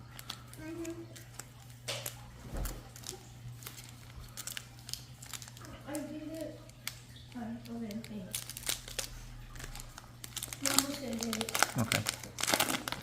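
Foil wrappers of Surging Sparks Pokémon card packs crinkle and tear in close, irregular bursts, with a child and an adult talking between and over the rustling.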